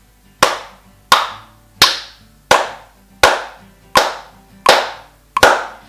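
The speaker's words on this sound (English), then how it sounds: "Let's clap some quarter notes." Eight sharp hand claps ring out close and loud, evenly spaced in a steady quarter-note beat with short gaps between them.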